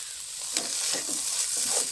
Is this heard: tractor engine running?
no